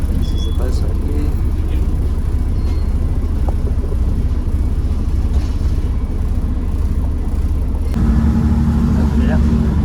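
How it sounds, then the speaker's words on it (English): Steady low engine rumble and road noise inside a moving bus, continuous throughout, with a slight shift in tone near the end; voices are faintly present beneath the drone. "Right now we're currently on the bus heading there."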